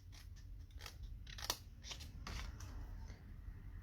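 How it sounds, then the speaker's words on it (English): Scissors snip through paper to cut out a small square, several crisp close cuts in quick succession with a soft crunch, no voices. "I'm going to cut this little square out here"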